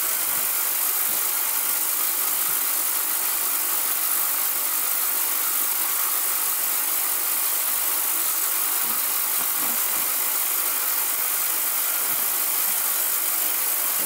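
A 6.5-litre ultrasonic cleaner runs with a constant, even high-pitched hiss and buzz, unbroken and steady from start to finish, with faint low knocks underneath.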